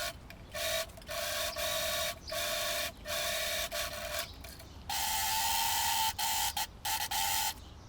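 A sewing machine stitches fabric apron pieces with the right sides together, running in short bursts of steady mechanical whirring broken by brief pauses, close and clear.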